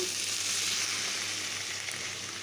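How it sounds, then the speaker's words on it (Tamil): Tomatoes sautéing with onion in a pan for onion mint chutney produce a continuous, even, fairly quiet sizzling hiss without pauses. "தக்காளி சேர்த்து ரொம்ப வதங்க வேண்டிய அவசியம் இல்லைங்க, கொஞ்சம் லைட்டாக வதங்கினா போதும்"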